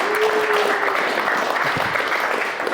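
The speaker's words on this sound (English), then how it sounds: "let's give a round of applause for Claire here." An office team applauds a salesperson's first-day sales: dense, steady clapping from a small crowd fills the whole stretch, close and even, with a brief whistle-like tone early on and no speech.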